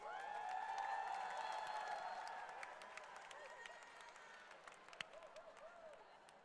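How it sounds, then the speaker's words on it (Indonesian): Faint crowd applause mixed with cheering and high excited voices at a youth event with influencers, swelling early and then thinning out. "Beri tepuk tangan untuk Clara Sinta, Hasan Junior, Ustadz Agam,"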